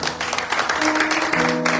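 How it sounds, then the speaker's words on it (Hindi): Congregation at a Palm Sunday church service clapping together, a steady broadband wash of hand claps with a faint sustained tone underneath, moderately loud throughout. "अपने असीम खुदा के लिए भरपूर तौर पे ताली बजाएं।"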